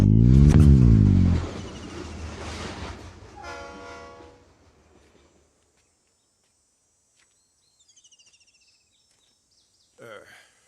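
Train roars past on a railway line right beside the listener, loud at first, then rumbling and fading into the distance until near silence, with a faint clatter returning at the end.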